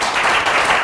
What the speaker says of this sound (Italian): possiamo fare un applauso alla Leonfortese?